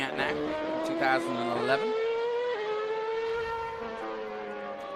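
A 2011 McLaren MP4-26 Formula 1 car at Laguna Seca, its 2.4-litre Mercedes 90-degree V8 screaming at high revs with rising and falling pitch as it passes down the straight, while a commentator talks over it.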